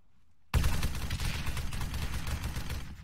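Sustained rapid gunfire erupts abruptly after a brief quiet moment in the military shooter ArmA 3, a dense, loud fusillade of overlapping shots continuing without pause.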